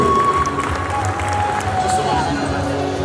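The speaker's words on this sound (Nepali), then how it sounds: "एकचोटि जोरदार तालीले सम्मान व्यक्त गरिदिनुको लागि हामी अनुरोध गर्छौँ" Audience applause for an honoured guest, Vishal Gurung, at the Mrs Gurung pageant grand finale: a sustained, even wash of crowd clapping with a faint tonal hum from the hall's sound system running underneath.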